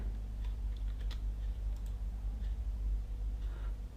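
A few light computer keyboard keystrokes tap out a number and then a press of Enter, soft and close against a low steady electrical hum, with no talking.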